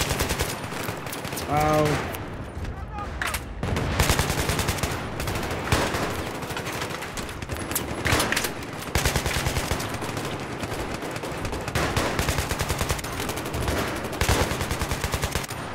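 Battlefield 3 video game gunfire: dense, loud automatic bursts and single shots rattle almost nonstop, with a player's voice briefly breaking in.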